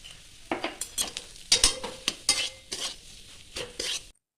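A spoon stirs and scrapes potato filling seasoned with ground coriander, cumin, black pepper, salt and chopped coriander leaves, a run of close, irregular scraping strokes against the pan with short pauses between them.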